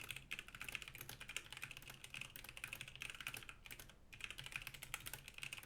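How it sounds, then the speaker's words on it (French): Steady clatter of typing on a computer keyboard during a microphone noise-rejection test for an Antlion Audio Kimura Duo headset mic, continuous rapid keystrokes close to the mic with no talking. "un test de frappe au clavier permet de tester la résistance au bruirax du microphone"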